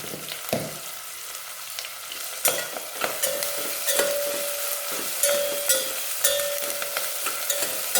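Tomatoes and onions sauté in a pan for Kongu-style rice and lentils, a close, continuous sizzle broken by repeated spatula scrapes and knocks against the pan, with no voices.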